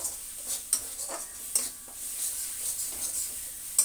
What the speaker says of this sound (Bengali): এবার আবার ভালো করে কষিয়ে নেব